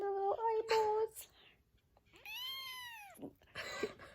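A kitten gives several thin, high meows, close and clear with short pauses between them, while a person speaks briefly in the gaps.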